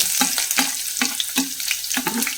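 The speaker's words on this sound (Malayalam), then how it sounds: "മൂന്നാല് വെളുത്തുള്ളി ചെറുതായി അരിഞ്ഞത് ഇട്ടു കൊടുത്തു" Finely chopped garlic hits hot oil in a clay pot while cooking a Kerala-style fish chilli curry, giving a loud, steady crackling sizzle with repeated bursts of popping and stirring scrapes, with no voices.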